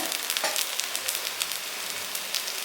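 A tiffin fries in a little oil in a covered pan, giving off a dense, steady sizzle with faint crackles and pops throughout, no voices.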